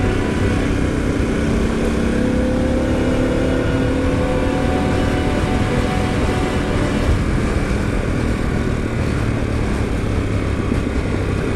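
A Harley-Davidson Pan America motorcycle engine runs steadily nearby, a continuous throaty rumble with slight shifts in pitch and no voices.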